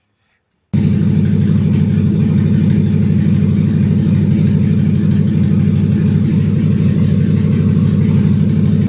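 A Land Rover Discovery II with a swapped-in LS V8 engine starts and then idles steadily, loud and close, with a constant low rumble for the rest of the clip and no voices.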